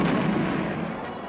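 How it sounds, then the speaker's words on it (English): Cannon blast in a 1966 Underdog cartoon, a loud booming roar that fills the whole short clip and slowly fades away. "Fire the cannon!"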